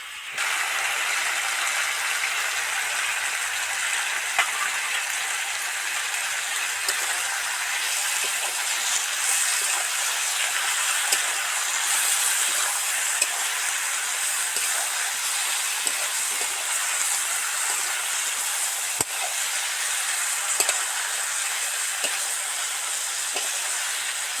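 Tomatoes fry in a pan with mustard, poppy seed, melon seed and cashew-raisin pastes, giving a steady, dense sizzle with occasional small pops, close and continuous.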